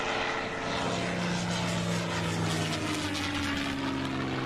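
Aircraft taking off in Microsoft Flight Simulator 2020 at an air show: a loud, steady engine drone fills the whole stretch, with a sustained low hum beneath a broad roar and no voices.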